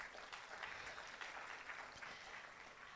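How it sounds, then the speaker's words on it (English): Applause from a crowd at an entrepreneurship festival pitching event, steady clapping that holds at an even level for a few seconds, somewhat distant and soft. "kindly give yourselves a round of applause for being here"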